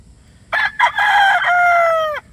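A straight-comb Abunayon gamefowl rooster gives one loud, close crow of about two seconds, with a short broken opening that runs into a long sustained call and then cuts off.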